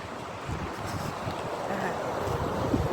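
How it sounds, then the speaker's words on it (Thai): Strong wind blowing by the lake at Ebensee, a constant rough buffeting rush across the microphone with gusty low rumbles, loud and close throughout. "ลมมันแรงนะ"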